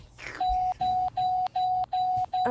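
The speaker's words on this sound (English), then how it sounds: "somebody's at my doorbell" An electronic doorbell chimes five times in a steady, evenly spaced rhythm, each tone held briefly, clear and fairly close.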